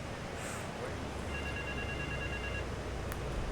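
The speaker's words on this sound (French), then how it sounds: "Un téléphone qui sonne, là, ou je rêve?" A telephone rings in GTA III Remastered, a faint electronic tone lasting about a second mid-clip, buried under steady game background noise.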